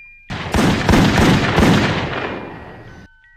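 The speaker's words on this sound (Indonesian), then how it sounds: "tiba-tiba terdengar suara tembakan berkali-kali" Several loud gunshots burst in quick succession in a film scene, sharp booming cracks overlapping into a dense volley that fades out after about three seconds, with no voices.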